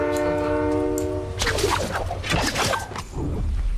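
A train in the Fortnite video game sounds a sustained horn blast, then rumbles and whooshes loudly past with clattering, rushing noise.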